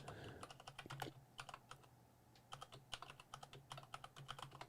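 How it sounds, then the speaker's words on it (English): Slow typing on a computer keyboard, a close run of uneven key clicks with short pauses between bursts, and no voices. "And nobody make fun of how slow I type."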